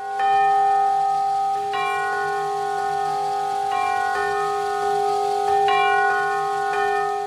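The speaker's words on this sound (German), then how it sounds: "Der bewegt hier hinten das Glockengeläut." Tubular chime bells on a 1929 cinema organ, driven by air pressure, ring loud and clear in a slow sequence of struck tones, each strike leaving a sustained, overlapping metallic ring.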